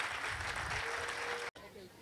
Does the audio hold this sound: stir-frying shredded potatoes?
no